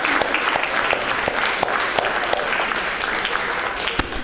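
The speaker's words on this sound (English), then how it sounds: "Big hand of applause for yourself." Applause from a theatre audience at a comedy show, a steady wash of many clapping hands, fairly close and sustained throughout, with faint voices beneath.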